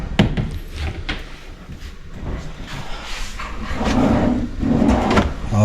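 Drawer of a modular kitchen cabinet sliding open and shut, several close wooden knocks and rolling slides spread across a few seconds, with room noise between.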